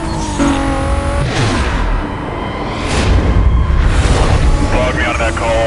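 A car roars away at speed in the Need for Speed Most Wanted racing game, its engine loud and revving with surges, alongside game sound effects and background noise.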